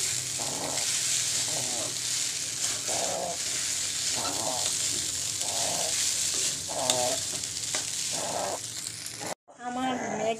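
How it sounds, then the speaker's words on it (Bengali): Maggi noodles stir-fried as chow mein in a pan, a steady loud sizzle with rhythmic stirring scrapes every second or so, ending with a short break and a different clatter. "এবার আমি এর মধ্যে ম্যাগিটা দিয়ে দিয়েছি, তো এবারে আমি এটা নাড়তে থাকবো।"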